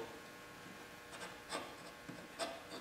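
Wooden pieces joined with Festool Domino tenons slide together in a dry fit, giving a few soft, quiet scraping rubs of wood on wood in a calm room.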